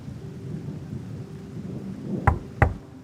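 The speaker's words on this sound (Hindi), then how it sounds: "बाहर तो बारिश हो रही है।" Rain falls outside at night in a steady low hiss, then two heavy thumping cracks land close together near the end, loud and sudden against the quiet patter.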